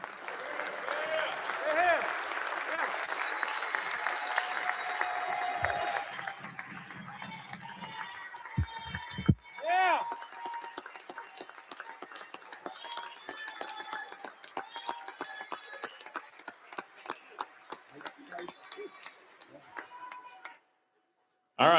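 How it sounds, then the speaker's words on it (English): A state House chamber full of people applauds during a floor session, a dense patter of clapping that gradually thins out and stops after about twenty seconds. "Let's all give him a round of applause if we can."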